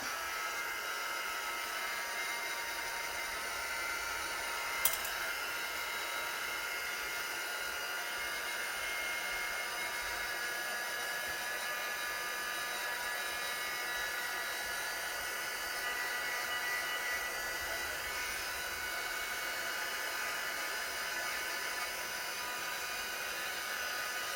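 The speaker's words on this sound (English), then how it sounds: "I'll give it a bit of a dry with the heat gun." A heat gun drying ink on artwork gives a steady, loud roar of blowing hot air without break, a constant rushing hiss close by, with a single faint click partway through.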